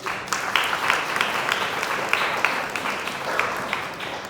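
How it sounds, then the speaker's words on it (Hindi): Applause from a church audience during a Hindi teaching session, a steady patter of many hands clapping at moderate loudness for a few seconds. "जोर से ताली बजाओ उनके लिए।"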